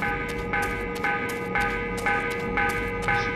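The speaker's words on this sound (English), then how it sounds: "Why is the bell ringing?" Bell in the video game Kya rings repeatedly at a regular pace, about every half second, each strike a clear tonal chime with a short ring, steady in level against a quiet game background.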